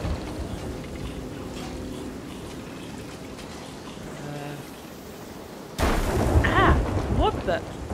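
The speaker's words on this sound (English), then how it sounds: "Lightning struck me." A sudden loud crack of a lightning strike followed by rumbling thunder breaks into steady rain and creaking ship noise during a stormy voyage in the pirate video game Sea of Thieves.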